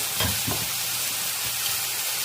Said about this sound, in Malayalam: അപ്പോൾ അരിഞ്ഞ് വെച്ച് ടൊമാറ്റോ ഇടാം. എന്നിട്ട് നന്നായിട്ട് ഒന്ന് ഇളക്കിയിട്ട്